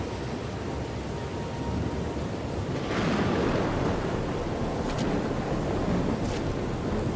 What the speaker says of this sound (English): River's starting to get a bit violent.